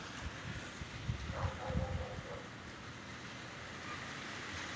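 Strong wind roars across a rooftop where corrugated metal sheets and a pigeon house sit, a dense, steady rush of noise with a few louder gusts and rumbles partway through.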